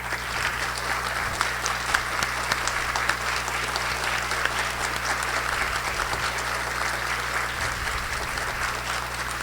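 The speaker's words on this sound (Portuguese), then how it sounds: "para receber uma salva de palmas aí do nosso auditório" An auditorium audience at the opening of the Flipoços 2019 festival breaks into dense, sustained applause, a continuous wash of many hands clapping at even loudness throughout.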